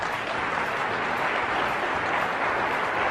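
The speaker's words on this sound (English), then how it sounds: "you can applaud." An audience applauds during a motivational talk, producing a steady, dense wash of clapping that stays even from start to finish with no voices over it.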